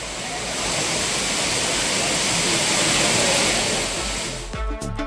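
The Courtallam waterfalls, where tourists are bathing, give off a dense, continuous roar that swells and then breaks off near the end.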